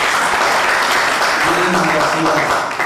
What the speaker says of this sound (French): Monsieur, madame, applaudissez pour eux.